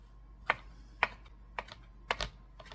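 Knife chopping fresh basil on a cutting board, sounding as a handful of sharp, separate taps spaced about half a second apart, close and fairly quiet.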